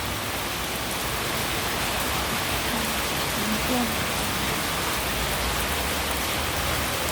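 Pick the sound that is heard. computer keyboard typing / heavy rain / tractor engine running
heavy rain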